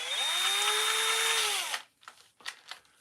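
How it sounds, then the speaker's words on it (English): A power drill fitted with a 3mm bit whines at a steady high pitch while boring into wood for woodcarving, then stops abruptly, followed by a few short knocks and scrapes. "3mm drill."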